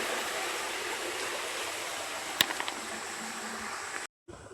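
Water gushing steadily from a running farm pump motor, a constant rushing flow close by with one brief knock near the end before it cuts off.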